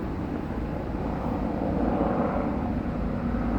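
A fixed-wing airplane flies overhead as a steady, loud broadband engine roar, holding even across the whole stretch with no other voices.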